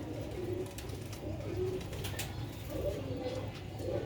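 Sialkoti roof pigeons coo in a steady, overlapping murmur, several birds close by repeating soft rolling calls against a constant low background hum.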